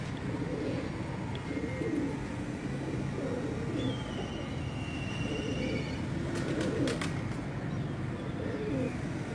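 A large Rampuri breed pigeon coos softly and repeatedly at close range, with faint chirps and light handling noises around it, while a voice talks quietly in the background.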